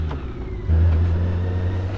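A BMW K 1600 GT six-cylinder motorcycle engine gives a smooth, steady low drone that swells louder partway through, as if opening up under load, heard close with no talk.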